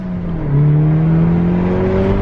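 A car engine pulls away and revs up steadily, a loud close whine rising in pitch as the vehicle accelerates off.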